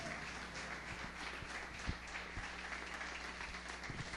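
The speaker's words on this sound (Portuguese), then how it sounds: "Uma salva de palmas ao Senhor." A church congregation claps in praise during a worship service, giving a round of applause to the Lord. The clapping is a quiet, dense, even wash that carries on steadily, with a few sharper claps standing out.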